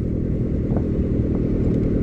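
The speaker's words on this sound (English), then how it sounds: "Now we're running open header" Subaru engine with an open header running steady under load at high RPM, a loud, continuous low rumble with a faint crackling rattle on top, no talking.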